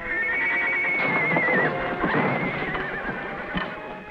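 A horse neighs loudly in a long, wavering whinny, with hoof clops and rustling nearby, no talking.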